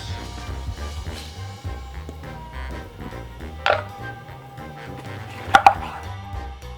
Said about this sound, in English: So let's get started with some chopping. We're gonna start with the peppers.